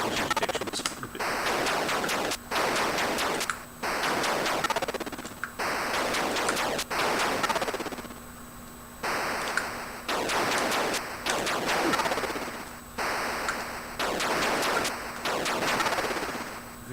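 Shots in a retro Atari console game: harsh, noisy electronic bursts of rapid fire that repeat in regular blocks of a second or so, separated by short pauses, loud and steady throughout.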